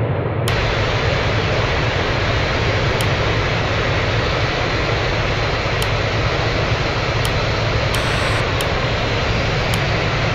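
Airbus A330 jet engines at takeoff power in Real Flight Simulator, a loud, steady, broadband roar with no pauses or voices.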